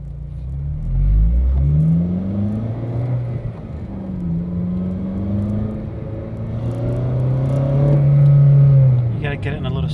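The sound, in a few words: Honda Civic Si with AfDynamic intake, part-throttle intake sound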